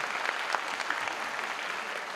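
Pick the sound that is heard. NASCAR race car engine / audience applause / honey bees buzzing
audience applause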